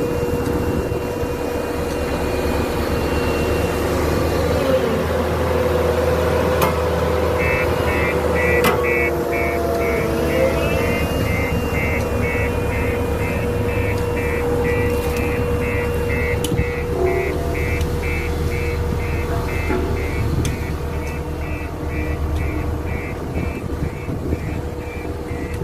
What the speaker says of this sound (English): Started doing the compacting after we had put some